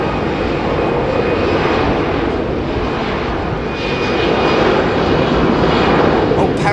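An airliner takes off at full thrust at Heathrow Airport, a loud, steady, broadband engine roar that fills the whole stretch without letting up, with no voices over it.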